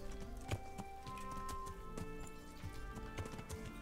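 Steady clip-clop of horse hooves trotting at a regular pace in the video game Kingdom Come: Deliverance, set against a continuous musical background with no talking.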